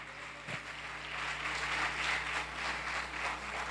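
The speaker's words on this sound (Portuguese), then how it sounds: "Você pode aplaudir o Senhor pela vida dele," A church congregation applauds its pastor during a communion service, the clapping a steady, moderately loud wash of many hands that swells and holds over a low background hum.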